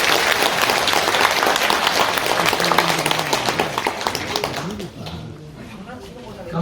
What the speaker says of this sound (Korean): 격려 박수 부탁드립니다